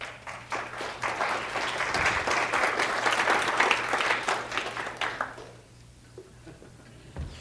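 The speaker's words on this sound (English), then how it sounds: "Give her a round of applause." An audience claps for a volunteer, dense applause rising and holding steady for about five seconds before thinning out to a few scattered claps, with faint voices underneath.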